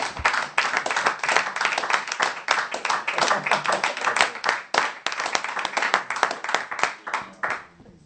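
Church congregation applauding together, a dense continuous clapping that runs steadily for several seconds, close and loud, with a few voices mixed in beneath the hands.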